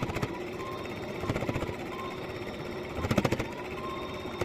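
Sewing machine stitching along a marked bottom line, a quiet steady mechanical whir with rapid needle pulses that quicken into a short louder burst near the end.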